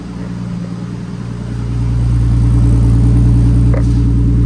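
A Nissan Skyline R34, freshly imported from Japan, idles with a steady low rumble that swells louder after a moment and then holds even and close, with no talking.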